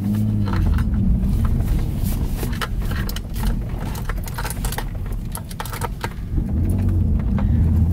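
A BMW E46 engine idles close by with fluctuating idle speed wavering up and down, with clicks and rattles over the low rumble.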